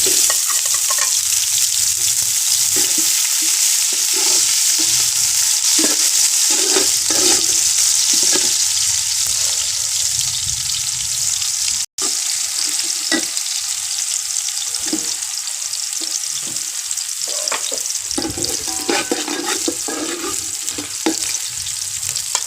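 Steady, loud sizzling of nigella seeds and garam masala frying in hot oil, with crackles and pops throughout and no talking.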